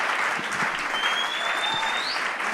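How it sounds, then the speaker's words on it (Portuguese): Church congregation applauding during a Sunday celebration service, steady dense clapping from many hands filling the room throughout, with a faint whistle rising near the end. "Olha aí, vai aplaudindo, gente."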